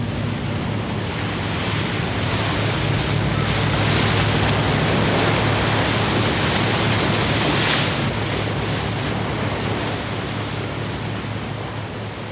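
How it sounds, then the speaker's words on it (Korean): Heavy sea swell rocking a mackerel fishing boat in the Korea Strait, sixty-five miles off Busan, a constant loud roar of waves and wind buffeting the microphone with a low engine rumble beneath. "두 다리로 서 있을 수 없을 정도의 파도다"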